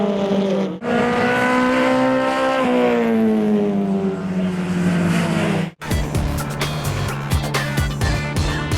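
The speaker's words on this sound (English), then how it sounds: "off the line they go, racing down turn 1" Road racing cars at a KZN circuit round, heard as loud engine drones rising in pitch up close, then a sharp cut to a dense, rattling burst of several engines pulling away together.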